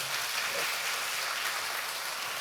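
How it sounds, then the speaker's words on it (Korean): During a Sunday worship service, the congregation breaks into applause, a soft, continuous hiss of many distant hands clapping at once in a large sanctuary, blending into an even, rain-like texture. "우리 한 번만 더 박수합시다"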